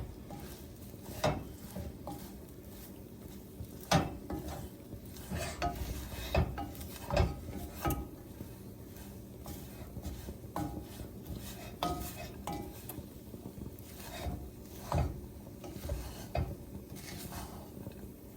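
Nuts coated in sugar are stirred and toasted in a small saucepan, with a spoon scraping and clinking against the metal in irregular knocks over a faint sizzle, close and fairly quiet.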